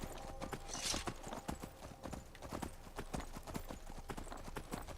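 Steady clip-clop of horse hooves from a unicorn mount in the video game Skyrim, a rapid rhythmic trot that carries on throughout at close range with a brief whinny-like burst near the start.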